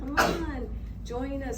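A single sharp sneeze bursts out near the start, followed by a person talking in a casual tone.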